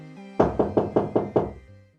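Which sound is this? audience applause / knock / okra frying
knock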